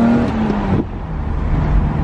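A warmed-up BMW E34 M5 engine hums loudly and steadily, its tone dropping midway as it settles into a lower drone.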